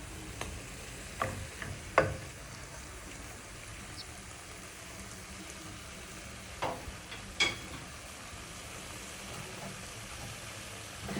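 Pepper goat meat is stirred in a cooking pot: a few faint, brief scrapes and knocks rise over a steady soft sizzling hiss, with no talking.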